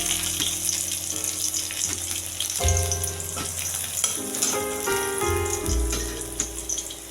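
Dried chillies, whole garam masala and chopped garlic frying in hot oil for aloo dum, a loud continuous close sizzle with stirring sounds and occasional tonal clanks of the pan.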